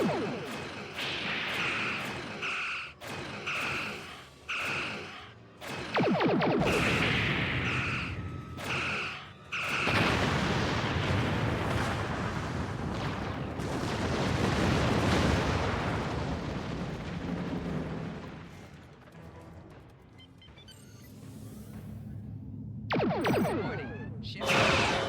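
Heavy booming explosions and torpedo fire in the space combat video game Star Trek Online, with a rapid volley of repeated blasts at first, then a long roaring rumble and later sharp bursts, all loud and continuous.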